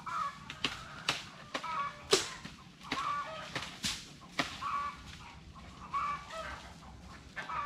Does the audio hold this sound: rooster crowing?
yes